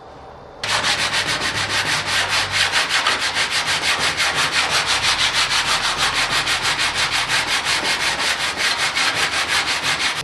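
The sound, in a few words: hand sanding boat hull with 80 grit sandpaper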